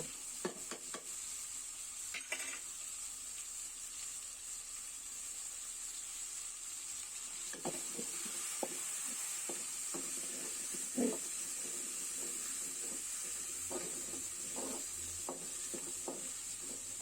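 Bone-in beef curry with chickpeas and red lentils is stirred in a pot, with a soft, steady sizzle under repeated scraping and stirring strokes, heard close and alone.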